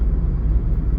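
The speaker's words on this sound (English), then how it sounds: "So I'm sure you can hear the car is super quiet." A Renault Alpine GTA sports car runs quietly nearby, giving a steady low rumble with no revving or sharp changes across a brief moment.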